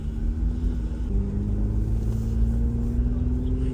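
An off-road vehicle crawls through snow in the BC Monashee Mountains on General Grabber X3 mud tires aired down to about 15 psi. Its engine gives a steady low rumble and drone from inside the cab, with a small pitch shift partway through.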